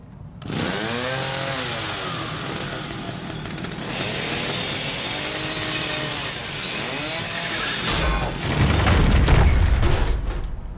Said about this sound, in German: Also Kettensäge auf Metallkette?